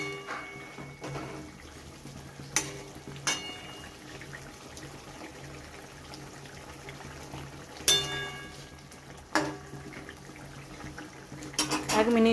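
Fish dropped into boiling water in a pot for a fish curry, with clanks of a metal pot and utensils, light splashes and a low simmer bubbling underneath, fairly close.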